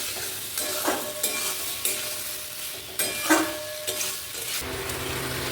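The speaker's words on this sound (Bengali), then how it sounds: "চিকেনটাও দিয়ে দিলাম মশলাটা ভালোভাবে কষিয়ে নিয়েছি" Chicken pieces frying with spices in a pan, a steady sizzle broken by recurring scrapes and stirs of a spoon against the pan, close and fairly loud, with no talking.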